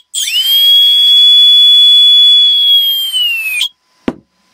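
A budget brushless outrunner motor spins up into a loud, high-pitched whine that rises quickly, holds steady for about three seconds, then cuts out, followed by a couple of sharp clicks.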